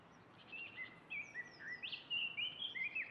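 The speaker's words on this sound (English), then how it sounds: "Then I just added this bird texture right here." Bird chirps and tweets layered as a texture over a guitar-based beat, bright repeated calls and short whistling trills close and clear across the whole stretch, with no talking.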